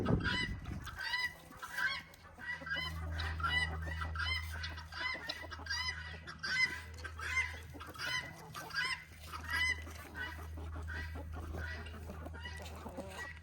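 A flock of chickens clucks and squawks busily nearby, calls overlapping in bursts over a constant low drone.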